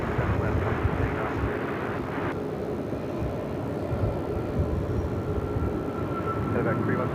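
American Airlines jet taking off from runway 7 left, a loud sustained broadband engine roar filling the whole stretch, steady and near, with a faint tone rising above it later.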